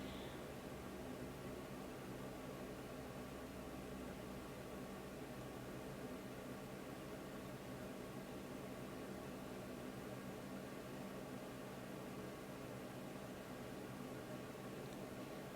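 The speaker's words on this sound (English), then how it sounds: "I got the heater on, so that's what you hear in the background." A steady, even hum of a space heater fills the room, constant and unchanging throughout with no voices.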